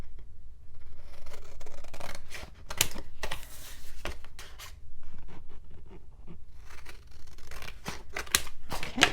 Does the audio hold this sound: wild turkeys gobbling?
no